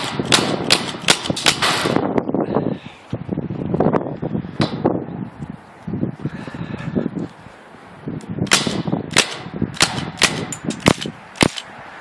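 A Crosman 1077 .177 pellet gun fires 4.5mm destroyer pellets at an Xbox controller, a quick series of sharp, loud cracks and snaps in an irregular rapid rhythm, with faint impact rattles between shots.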